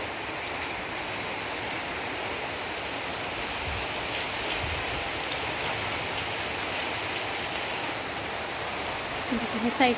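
Heavy rain pours down in a steady, dense hiss of drops on surfaces, continuous at moderate level, with a few brief closer sounds near the end.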